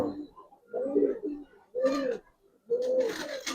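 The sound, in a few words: Giribaz pigeons cooing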